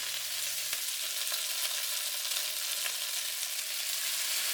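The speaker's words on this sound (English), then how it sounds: "Put some cooking sherry in it." Oysters and onions sizzling steadily in a hot pan for a Chinese stir fry with cooking sherry, a constant bright hiss of frying with faint stirring clicks, no talk.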